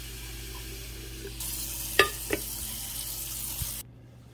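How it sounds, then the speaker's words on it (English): Tap water pours into the 12-cup glass carafe of an Amazon Basics programmable coffee maker: a steady hissing gush for about two seconds with a couple of light clinks, then it stops abruptly. "I'm gonna go fill the coffee pot up with fresh water to the 12-cup mark."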